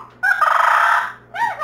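A pet bird gives two loud, harsh squawks close by in the morning, a long drawn-out call followed by a shorter one after a brief pause.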